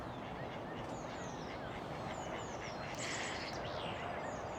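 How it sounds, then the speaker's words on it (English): Ducks quack faintly by a stream near Bosham, with scattered soft calls rising from a steady hiss of running water and outdoor background noise. "Looks like there's a bit of a meeting over there of ducks."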